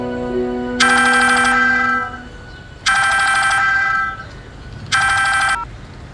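A telephone rings for an incoming call, three loud electronic ring bursts of about a second each separated by short pauses, with a faint held tone at the start and no talking.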